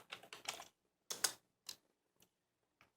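Short bursts of keystrokes on a computer keyboard in a quiet room, a quick cluster of taps followed by a few isolated clicks spaced further apart, close and faint.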